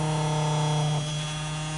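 The electric motor of a Singer Featherweight sewing machine hums steadily with a new Superbelt fitted, a close, even drone whose pitch drops slightly as the motor is lowered.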